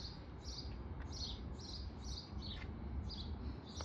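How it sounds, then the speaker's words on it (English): Birds chirp in a spring garden with blooming roses: a run of short, bright, repeated tweets at an even pace, fairly faint and distant over steady outdoor background noise. "Birds are chirping."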